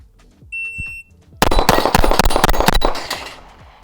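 Rapid pistol shots from a Smith & Wesson Bodyguard fitted with an optic ring out against a steel plate rack, a brisk close string of sharp cracks after a short electronic beep from a shot timer.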